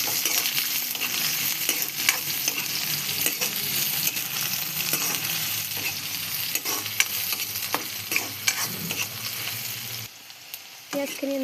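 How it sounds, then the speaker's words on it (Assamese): Onions frying with bay leaf in mustard oil in a kadai on a gas stove, a steady close sizzle with occasional stirring scrapes and clinks, dropping away sharply near the end. "পিঁয়াজখিনি এনেকৈ ৰংচুৱাকৈ ভাজি পেলাই অলপ"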